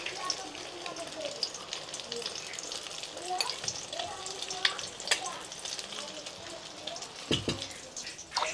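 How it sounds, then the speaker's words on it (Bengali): Egg-dipped bread slices fry over low heat in a pan and are flipped from side to side, making a faint, crackling sizzle with soft clinks, and quiet talk underneath. "হালকা আঁচে রাখে এভাবে এপিট ওপিট করে ভেজে নেবেন।"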